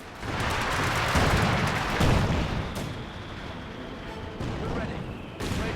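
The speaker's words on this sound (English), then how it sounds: "they're just bombarding the hell out of Nick here" Artillery bombardment in Company of Heroes 2, a dense rolling wash of explosions and gunfire that swells and eases in waves, with a voice talking over it.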